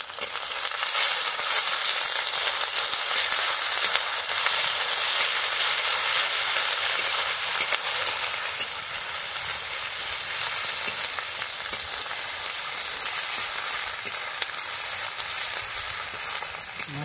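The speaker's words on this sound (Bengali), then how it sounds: "আদা রসুন বাটা দিয়ে দিচ্ছি।" Ginger garlic paste sizzles in a hot frying pan for a village-style chicken curry. A loud, steady, close frying hiss runs unbroken throughout, with faint stirring scrapes underneath and no speech.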